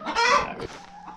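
Chickens and roosters on a ranch cluck loudly and close by, a dense burst of squawking calls that fades into softer scattered clucks.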